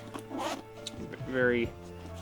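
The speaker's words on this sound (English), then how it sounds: "love the zippers. Those are very nice zippers." A zipper pulled on a PolarPro Roadrunner camera bag pouch, two quick close rasping zips, the second longer and brighter, under someone talking.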